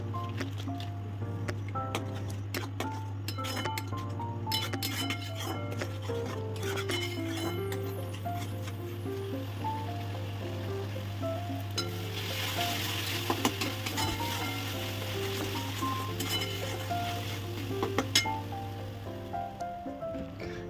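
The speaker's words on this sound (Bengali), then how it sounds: "এর মধ্যে আমি হলুদ লঙ্কা গুঁড়ো জিরে গুঁড়ো দিয়ে পরে এটাকে আমি আবারও কষিয়ে নেব" Turmeric, chili powder and cumin powder being stirred and sautéed in a pan give a soft, continuous sizzle with scraping stir strokes, close and moderately quiet, under a steady low hum.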